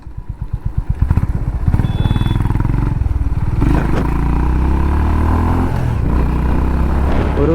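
Honda CB 350RS motorcycle engine while riding, starting as a rapid pulsing idle-like thump that builds into a steady, loud throaty drone as it accelerates and holds speed, with no voices.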